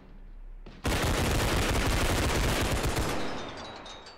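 A loud, rapid burst of gunfire in the realistic shooter game Bodycam, many shots fired in quick succession for about two seconds after a brief lead-in, then fading out.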